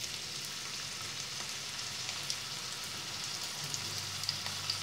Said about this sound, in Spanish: Pues ya tenemos el aceite caliente y vamos a echar la cebolla.